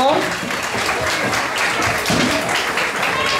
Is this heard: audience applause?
yes